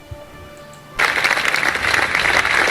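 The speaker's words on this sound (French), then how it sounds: "Ndeye Fatou, elle aussi, elle mérite des applaudissements." Applause bursts out abruptly for a student at a children's school event, a dense, steady clatter of clapping hands that sustains loudly after a quiet room with faint tonal hum.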